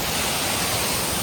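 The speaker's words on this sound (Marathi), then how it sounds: "धबधबा." A waterfall near Bhimashankar on a misty evening roars as a dense, constant rush of falling water, loud and close, with no other sounds.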